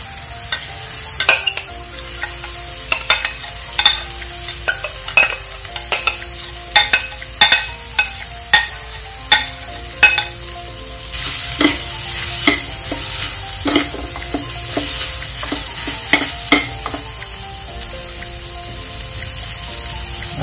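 Milkfish (bangus) fries in a pan with a constant loud sizzle, punctuated by regular clinking and scraping as it is stirred and turned, close and without talk.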